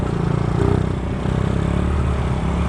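A supermoto motorcycle ridden in New Jersey, its engine a loud continuous throbbing drone with rushing wind noise, steady throughout and heard from on the bike.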